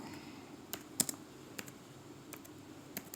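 Quiet close keystrokes on a computer keyboard as an AI prompt is typed, a sparse irregular run of sharp clicks with one louder tap.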